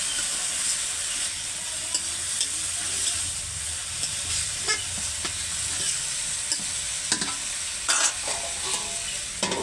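Fish and potatoes stir in a frying pan, a spoon scraping and turning the pieces in a steady rhythm over constant sizzling hiss, close up and with no voices.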